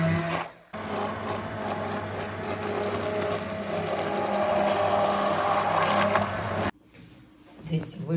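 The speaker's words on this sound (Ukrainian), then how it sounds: "Беру блендер і збиваю все." A kitchen blender whirs continuously for about six seconds, pureeing fermented tomatoes without skins into a thick drink. The motor grinds steadily and strains a little louder toward the end, then cuts off abruptly, leaving faint room noise.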